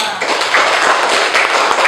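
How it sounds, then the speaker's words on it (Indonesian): A grade 6 class claps together in a classroom, a brief burst of thick, fast clapping from many students that stays even and close throughout. "tepuk tangan untuk kita semua"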